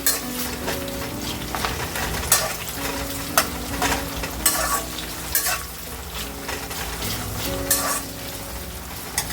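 Onions, curry leaves and spices frying in a pan for Rayalaseema-style uggani, a close, steady sizzle with repeated stirring scrapes and spatula knocks throughout, and no talking.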